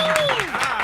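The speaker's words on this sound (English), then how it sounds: "Round of applause." A morning radio show's studio audience gives a short burst of applause, clapping steadily beneath a voice speaking over it.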